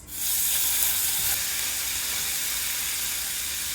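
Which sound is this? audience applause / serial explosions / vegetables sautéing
vegetables sautéing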